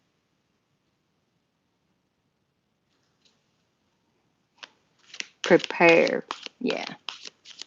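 Tarot cards being shuffled in a late-night reading, a quiet start giving way to crisp, close riffling bursts in quick succession, with a voice speaking briefly over them.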